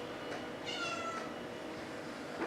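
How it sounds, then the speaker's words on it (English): A cat meows once, a short harmonic call heard fairly close over a steady low background hum, with no talking. "Let me grab this cat."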